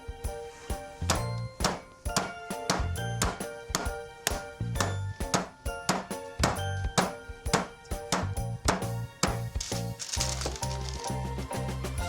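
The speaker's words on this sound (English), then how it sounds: "you can either tenderize it by banging it, which also makes it thin" Rapid repeated thuds of meat being pounded, a steady rhythm of sharp hits with a metallic ring, close and loud.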